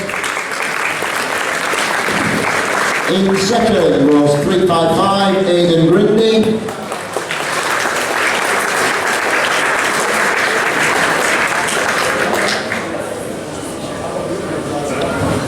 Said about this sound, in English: we'll still give him a round of applause